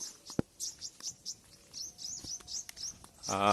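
Small birds chirp in the trees of a bird sanctuary, a quick run of faint, high, repeated tweets with a brief louder call near the end.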